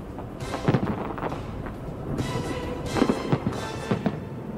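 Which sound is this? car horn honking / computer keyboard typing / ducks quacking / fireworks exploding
fireworks exploding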